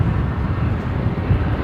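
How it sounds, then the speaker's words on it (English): Boeing 737-800 airliner starting its takeoff roll at Brisbane Airport, a continuous low jet engine roar heard from a distance, steady and broadband with no voices. "The 737-800s just beginning their takeoff roll."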